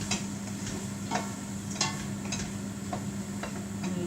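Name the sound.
stirring mushrooms and onion in a pan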